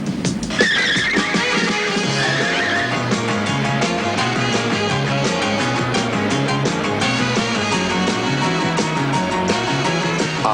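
Two battery-powered toy cars, one blue and one red, race in a Duracell advert, with loud continuous motor whine and tire squeals under a music bed throughout.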